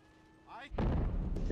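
An artillery strike in the video game Men of War Assault Squad, on the Okinawa map, lands as one deep, rumbling boom that rises suddenly and keeps rolling, with a faint tone and some game noise before it.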